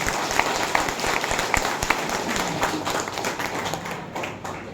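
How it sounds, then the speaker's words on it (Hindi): Seminar audience clapping loudly and energetically, a dense, steady burst of crowd applause with sharp individual claps poking through, tapering slightly toward the end. "एक बार जोरदार तरीके से ताली बजा लीजिए, जोरदार तरीके"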